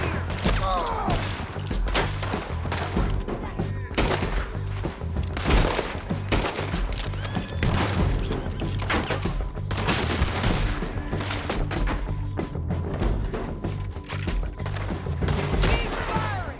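Sustained gunfire from a Red Dead Redemption 2 shootout at a jail, with dense volleys of rapid shots and heavy thuds filling the whole stretch, a shouted voice briefly cutting through the din.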